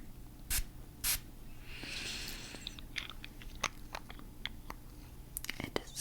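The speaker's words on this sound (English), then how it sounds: "I'm just going to be spraying this." A soft hiss of scented mist sprayed close by around the two-second mark, amid quiet tapping and crinkly handling clicks in an intimate, hushed setting.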